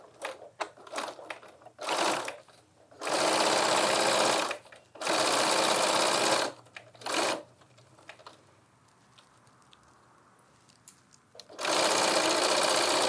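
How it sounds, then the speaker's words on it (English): A sewing machine stitches a lined tote bag in bursts: quick, ticking back-and-forth stitches first, then long loud steady runs of whirring, separated by short pauses with faint handling noise. "So now I'm going to start with a back stitch."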